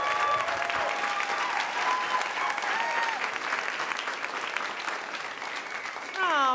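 A stand-up comedy club audience applauds steadily, a dense wash of clapping that holds for several seconds, with a few whoops rising near the end.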